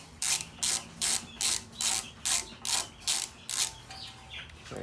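A hand ratchet loosens bolts on a plate of a Ford YT16 lawn tractor, about nine evenly spaced clicking strokes close by, with a faint bird chirp in the background.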